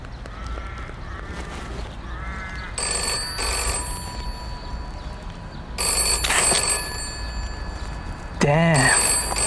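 A telephone rings after a free call placed from a phone booth, its bright trills sounding in separate bursts over steady background noise while a voice speaks at times.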